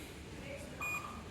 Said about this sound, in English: again there's another beep and loud beep, and this turns off.